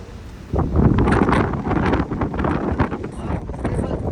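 Strong wind on a hill buffets the microphone in loud, gusty rumbles, with voices talking underneath.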